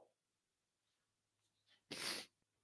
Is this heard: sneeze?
yes